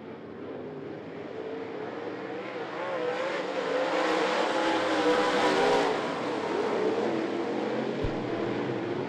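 Late model race cars roar around the I-75 Raceway oval, a continuous engine drone that swells louder in the middle as the pack passes, then eases back, heard from a distance without commentary.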